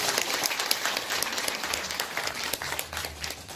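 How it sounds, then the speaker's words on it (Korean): An audience at a mayoral candidate forum on agriculture in Yeoju, South Korea, breaking into sustained applause, many hands clapping densely and steadily at moderate distance. "힘찬 감사의 박수 부탁드립니다"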